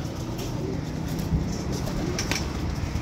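Captured pigeons coo softly amid a low background hum, a few brief calls over about three seconds with no talking.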